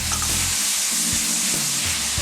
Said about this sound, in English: We're going to put a little bit of cooking oil back in there. And we're going to add our garlic, the tablespoon of cooking wine.